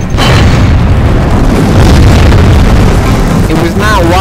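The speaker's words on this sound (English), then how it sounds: "a building behind the gate being destroyed by the mortars" Mortar fire pounds a gate and the building behind it during a siege, a loud, continuous wall of heavy booms and rumbling blasts that never lets up, with a few brief whistling tones near the end.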